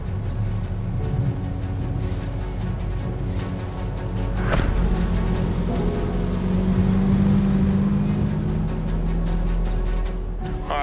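An off-road truck drives through the Moroccan desert with a steady, close, low engine drone and road rumble that swells slightly midway, with no talking.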